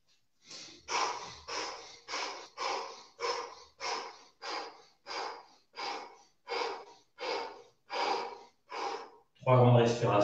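Deep breaths during a breathing exercise: about thirteen long, even inhale-exhale cycles, close and steady, each roughly half a second apart, followed by a louder, fuller breath at the end.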